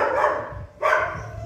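Small abandoned puppy giving two short, high barks with a brief pause between them, close and fairly quiet.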